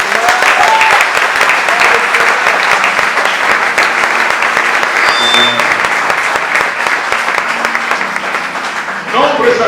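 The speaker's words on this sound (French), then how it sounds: "j'aimerais que vous acclamez très fort" A church congregation bursts into loud, sustained applause and cheering during a French-language sermon, dense clapping filling the space steadily for several seconds.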